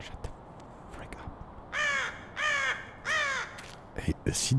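In The Cursed Forest horror game, a crow gives three loud, evenly spaced rasping caws close by, with faint clicks and a little noise in between.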